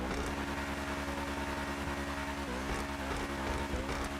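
Truffade Nero Custom, a Bugatti Chiron-style hypercar in GTA 5 Online, with a steady low engine drone from the exhaust, faint and continuous at idle or light throttle, with no talk.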